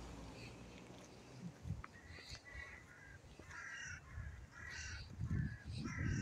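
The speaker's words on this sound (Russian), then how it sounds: "Тут вообще такие и вороны на березе каркают." Crows caw from birch trees, with several harsh calls in irregular bursts at a moderate distance over faint outdoor street ambience and footsteps.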